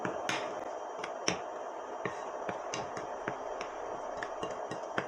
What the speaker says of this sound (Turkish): Hepsini şöyle karıştırıyorum.